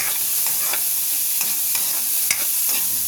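Spam stirred through frying rice in a pan, a steady sizzle with a few soft scrapes and taps of the utensil at intervals, close and alone without talk.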